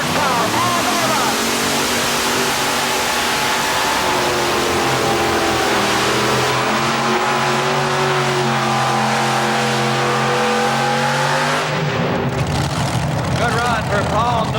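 A roughly 6,000-horsepower pulling tractor at a 1987 tractor pull in Syracuse, engine screaming loud and close with rising, shifting pitch, then cutting abruptly near the end to a rough lower roar.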